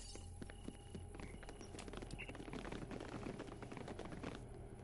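Footsteps in a video game clatter in quick, overlapping clip-clop beats, a busy close patter of steps layered over a steady low ambient hum.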